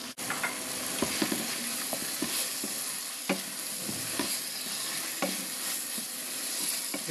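Chicken meat sizzles steadily in a pot with turmeric while being sautéed for bhuna khichuri, with occasional scraping stirs of a spoon against the pan, close and continuous.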